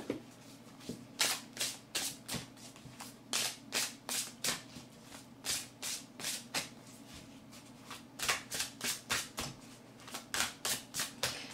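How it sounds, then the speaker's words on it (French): Oracle cards riffled and shuffled by hand in repeated quick bursts, close and crisp, each flurry of card flicks followed by a brief pause, steady rhythm throughout with no talking. "je vais vous tirer une carte dans l'oracle"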